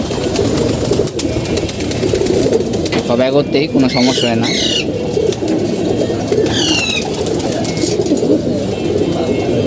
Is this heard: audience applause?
no